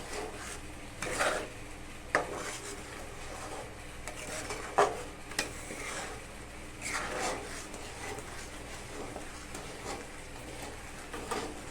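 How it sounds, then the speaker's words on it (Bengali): Raw mango jelly with vinegar being stirred in a pan over a low flame: a spoon scrapes and clinks against the metal in irregular bursts over a soft, steady background. "আর এটা আমি নেড়ে ছেড়ে নেব আর লো ফ্লেমে এটা নাড়তে হবে"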